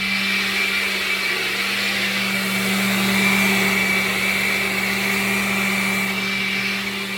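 A blender whirs in a steady, loud drone, mixing a protein shake, running continuously without pause.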